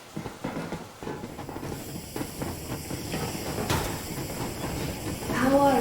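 A steam locomotive in the video game Metro Exodus rumbles and hisses as it gets under way, a broad chugging wash building steadily with a whistle-like tone rising near the end, while voices talk over it.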